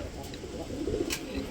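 Pigeons coo softly in a loft housing a mix of fancy breeds, low rounded calls drifting through steady background noise over a second and a half, with no one speaking.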